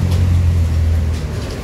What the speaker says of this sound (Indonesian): Bus pariwisata Senopati.